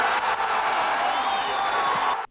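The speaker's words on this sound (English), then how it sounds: "As cheers filled the West Berliner crowd" A large West Berlin crowd cheers and applauds after Reagan's Berlin Wall speech, a dense roar of clapping and shouts held loud and steady before cutting off abruptly.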